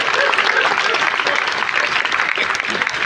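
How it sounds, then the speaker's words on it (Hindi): Steady, dense applause from an audience at a Hindi poetry gathering (kavi sammelan), loud and continuous throughout the few seconds, with a faint crowd murmur mixed in. "ताली एक बार सारे लोग हाथ उठा के बजाएंगे"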